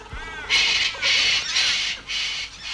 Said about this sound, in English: That's a galah.